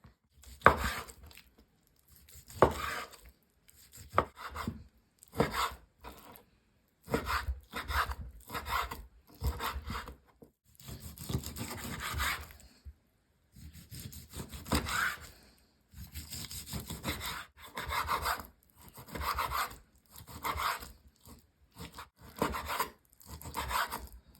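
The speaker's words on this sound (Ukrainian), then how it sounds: "зараз будемо дрібненько нарізати" A knife finely chopping meat on a board, a long run of rapid close chopping strokes in bursts separated by short pauses, with no talking.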